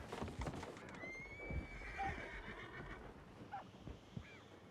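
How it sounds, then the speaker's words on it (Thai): A horse in a video game whinnies loudly, a long high neigh with a second shorter call after, over clip-clopping hooves and game sounds. "มีม้า มีม้าจอดอยู่ด"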